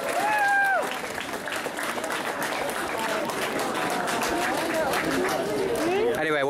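Audience applause and cheering fill the room during a cosplay parade at a convention, sustained and loud across the whole stretch, with crowd chatter mixed in and a brief whistle-like tone at the start.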